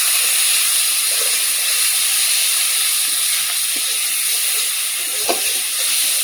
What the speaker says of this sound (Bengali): এখন মাংস ধনে আর জিরে বাটাটা দিয়ে দেবো তেলের মধ্যে।